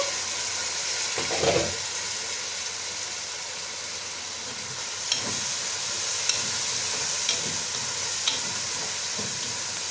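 Onions frying and being stirred in a pan for prawn biryani, with a steady sizzle throughout and a few scraping stirs and clicks of the utensil against the pan, close and fairly loud, no talking.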